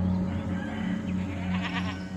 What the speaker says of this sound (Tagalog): Nagpapakain ako ng kambing noon sa likod ng bahay namin.